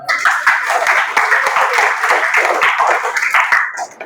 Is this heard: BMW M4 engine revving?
no